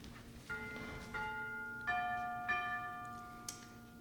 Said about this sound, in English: Bull bells are ringing